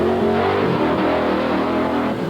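The Bigfoot monster truck, Bigfoot number 5 with ten-foot tires, roars loud and close with its engine revving in a sustained, rough growl at a 1989 event, with no voices over it.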